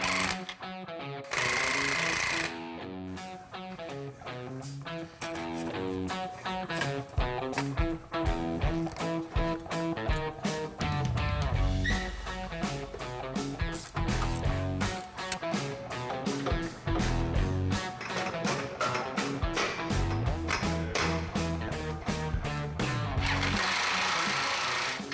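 Ratchet straps being cranked tight on the exhaust of a 1979 Chevy Malibu hot rod in a garage, a rapid, loud, close clicking rattle in long bursts with short pauses, and no talking.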